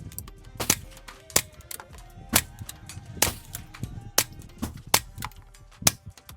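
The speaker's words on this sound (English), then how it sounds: "we're about to be here all day long shooting this thing" A .22 rifle fired through a Warrior Systems Legionary suppressor, a string of about a dozen quiet, sharp cracks at irregular intervals, with faint clinks between shots and no talking.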